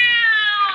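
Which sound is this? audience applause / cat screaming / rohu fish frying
cat screaming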